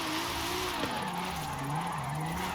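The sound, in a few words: car sliding while counter steering in video game Forza Horizon 5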